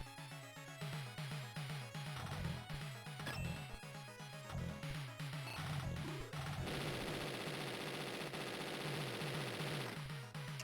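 Rapid, unbroken machine-gun-style gunfire in Phantasy Star Generation II, with rhythmic repeating bursts that go on steadily and grow into a denser, harsher barrage partway through.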